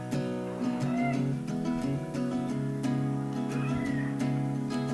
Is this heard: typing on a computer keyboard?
no